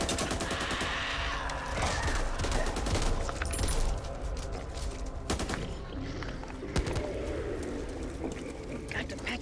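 Dense machine gun fire in the video game Back 4 Blood on PlayStation 5, with rapid bursts hammering through a busy mix of in-game noise and voices, loud and continuous across the stretch.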